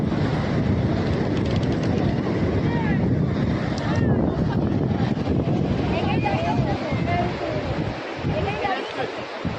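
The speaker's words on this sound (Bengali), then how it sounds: "খুব সুন্দর একদম সি বিচ" Waves and strong wind on the sea beach at New Digha: continuous loud surf and buffeting wind noise for the whole stretch, with people talking faintly in the background and occasional higher voices.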